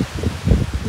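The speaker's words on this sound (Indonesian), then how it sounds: "Anginnya kencang, teman-teman." Strong wind gusts buffet the microphone and rustle foliage in a brief, blustery burst outdoors on a campus in Minahasa, North Sulawesi.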